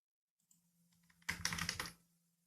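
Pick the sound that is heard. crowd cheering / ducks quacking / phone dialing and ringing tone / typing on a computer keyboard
typing on a computer keyboard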